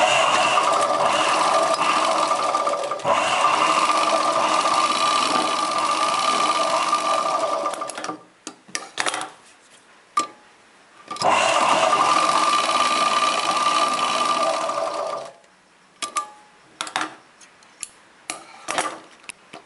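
A sewing machine runs steadily while stitching the seam of a chudidar pant, in two long loud bursts separated by a pause, then a few short starts with light clicks near the end.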